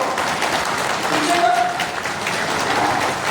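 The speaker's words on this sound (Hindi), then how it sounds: "मैं आप सबसे ताली बजाना चाहती हूँ।" A seated crowd at a BJP office ceremony in Rajasthan, held for the new state president taking charge, breaks into sustained, dense applause that fills the whole stretch, with faint voices mixed in.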